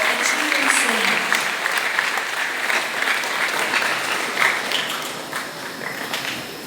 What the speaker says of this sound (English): shall we all give a big hand of applause for sir